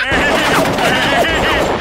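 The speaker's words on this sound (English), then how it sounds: "Peter, is it safe to be firing real guns at each other in the house?" Rapid gunfire indoors in a house, fired back and forth at close range: a loud, continuous burst of shots lasting under two seconds, with shouting voices mixed over it.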